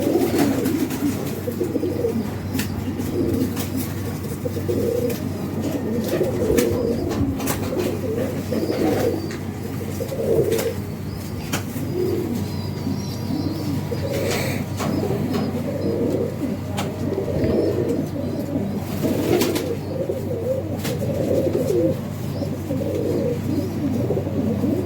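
Pet pigeons of a champion bloodline cooing steadily in a loft, low rolling coos layered and continuous throughout, close and fairly loud with a constant hum beneath.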